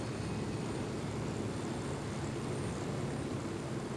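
Steady, droning rotor and engine roar of a helicopter in the video game Ghost Recon Wildlands, a constant low rumble that stays even and unbroken with no voices.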